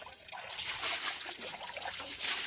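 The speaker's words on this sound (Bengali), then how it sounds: "টাইম কলে জল দিয়ে দিয়েছে, জল পড়ছে" Water runs from a timed public tap in a steady, faint trickle and splash, with small uneven surges throughout and no voices.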